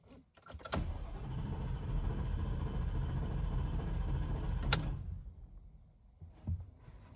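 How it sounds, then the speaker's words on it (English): A Ford F-150 with the 5.0L V8 cranks over on its starter for about four seconds without firing, a steady churning whir that ends abruptly, followed by a faint click and near silence. "The engine's not going to start, but it's just going to crank over to build oil pressure."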